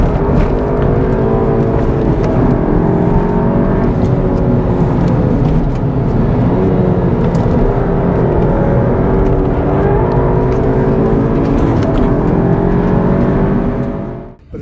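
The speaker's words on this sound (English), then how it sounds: "This car just fires out of the corners like that." A tuned Volkswagen GTI Clubsport's engine roars loudly and continuously at high revs on a race track, surging through gear changes as it accelerates hard, before cutting off at the end.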